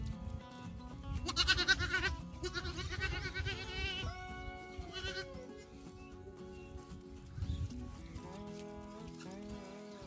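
Boer goats in a herd in the Bahia backcountry, bleating in several loud, wavering calls that overlap and recur over a low continuous background, with no talking.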